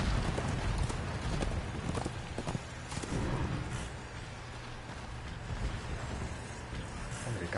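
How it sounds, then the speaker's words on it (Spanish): A horse's hooves clip-clop at a steady gallop in the video game Darksiders 2, heard under game music and ambience with some faint talk. "El caballo está guapísimo."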